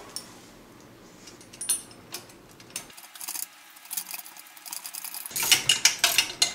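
Hex key tightening a part on an Express tire changer, giving small ratcheting mechanical clicks and taps, close and fairly faint, with a brief quiet gap before a louder burst of clicking.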